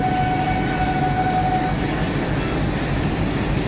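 Steady broadband rumble of a train at platform three of Renigunta railway station, continuous and fairly loud, with a faint tonal whine fading early on.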